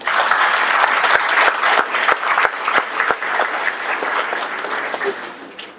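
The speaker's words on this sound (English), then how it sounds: "So, you truly deserve a big round of applause for this." Applause at a university convocation ceremony in a large hall: a loud, sustained crowd clapping that fills the whole clip, gradually thinning slightly toward the end, with no speech over it.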